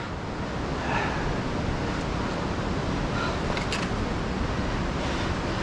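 Steady broadband rush of river water flowing through a narrow pinch point, loud and continuous throughout, with no voices.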